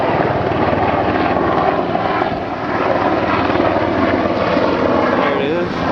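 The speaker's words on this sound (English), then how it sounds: "Here comes a helicopter," A helicopter flies overhead during a rooftop rescue after Hurricane Katrina, its loud, steady rotor and engine roar filling the whole stretch without fading.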